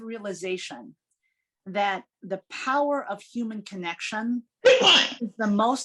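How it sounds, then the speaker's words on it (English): A sneeze bursts out once near the end, a sharp broadband blast cutting across steady close speech from a speaker at a leadership forum. "I think somebody sneezed."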